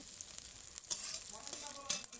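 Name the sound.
chilli and onion sizzling in hot oil in a wok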